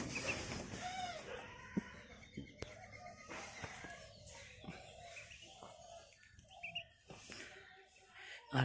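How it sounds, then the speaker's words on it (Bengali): A laying hen clucks in a backyard coop with quail nearby, short repeated clucks scattered through the scene under a voice, with other fowl calls mixed in. "এই মুরগিটা মনে হচ্ছে ডিম দিচ্ছে"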